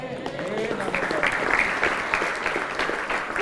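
Audience applause at an Islamic boarding school gathering in East Kalimantan, a dense steady clapping from a crowd filling the whole stretch, with some voices mixed in.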